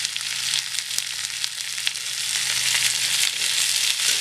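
Four medium onions sizzling and frying steadily in a hot pan for an okra (bhindi) curry, a bright, continuous crackle close up with no talking.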